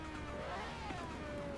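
A car engine in the video game Forza hums steadily at moderate volume, with a faint rising tone as it runs continuously without any talking.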